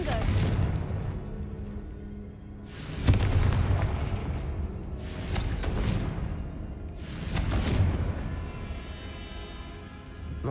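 Deep booming blasts from the Confringo fire spell in the Hogwarts Legacy video game roll out one after another, three or four heavy explosions with rumbling tails, loud and close, with some game voices mixed in.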